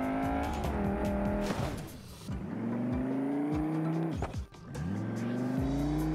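A modded RS car in the BeamNG Drive driving game revs and accelerates with loud engine drone and tire squeal, broken by sharp crash impacts before the engine picks up again.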